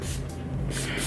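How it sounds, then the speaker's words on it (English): Short bursts of a spray bottle spritzing water onto a curly wig, hissing close to the microphone over a steady low background hum. "I'm just going in with a little bit of spritz."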